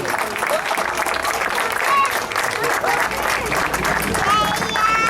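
Audience applause at a nursery school event in Alfortville, steady sustained clapping from a crowd that stays even and loud throughout, with voices mixed in beneath it.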